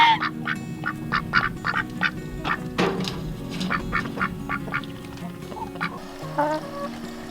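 Several ducks quack repeatedly in quick, irregular bursts, close by, with softer calls overlapping in the background.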